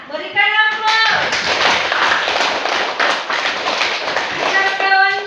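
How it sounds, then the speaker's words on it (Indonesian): A primary school class breaks into dense, sustained applause for about four seconds, many hands clapping together, framed at the start and end by a voice. "Berikan aplaus."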